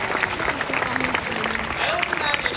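A school commencement audience applauds its teachers, a dense continuous clapping from a large crowd with some voices mixed in.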